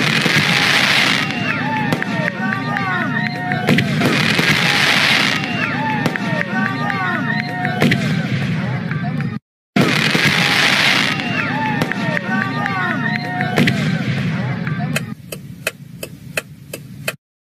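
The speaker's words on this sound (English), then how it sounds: "The fireworks is about to begin." Fireworks explode in repeated bursts of crackling booms with whistling tails, mixed with crowd babble and voices, then a short series of sharp evenly spaced pops near the end.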